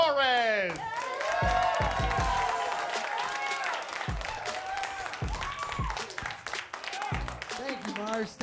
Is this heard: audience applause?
yes